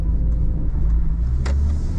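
Suzuki Wagon R car engine rumbling steadily while driving through a U-turn, a loud, close, continuous low drone with no talking.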